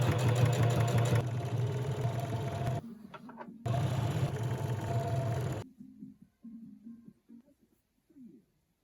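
Sewing machine top stitching around the edges of a pleated cargo pocket, a close whirring motor run that pauses briefly, resumes, then stops, leaving faint handling sounds.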